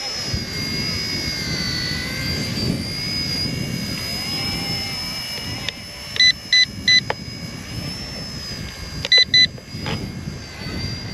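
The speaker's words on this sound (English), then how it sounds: "If I press it, it beeps twice." Two short pairs of high electronic beeps from an RC transmitter ring out over a steady jet-like whine from an RC ERA UH-1 helicopter and wind noise, the second pair coming a few seconds after the first.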